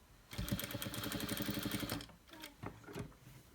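A sewing machine stitches patchwork quilt pieces in one steady, rapid mechanical run of under two seconds. Quieter clicks and handling noises of the fabric follow.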